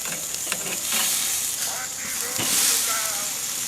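Thin flank steak sizzling and hissing over direct heat on a grill, a constant bright crackling fizz with small pops and surges close by.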